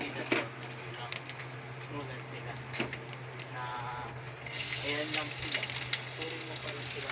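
Cooking oil sizzles in a pan before garlic goes in for a Filipino sautéed vegetable dish, a steady close frying hiss with light clinks, growing louder in the final seconds.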